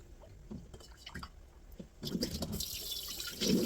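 Salted seaweed stems being rinsed by hand in water, with soft splashing and trickling that grows louder and fuller in the second half, close and without talk.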